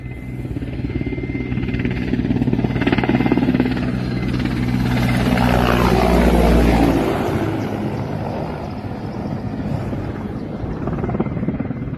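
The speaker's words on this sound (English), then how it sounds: "Extreme low flight of Ukrainian helicopters." Ukrainian helicopters pass extremely low at night over the Dnipro, their rotor thump and turbine roar swelling loud and close, then easing off into a steady, more distant drone.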